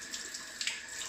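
Tap water runs steadily into a sink while a piece of pork belly, about one pound, is washed, a continuous hiss with small splashy surges and no talking.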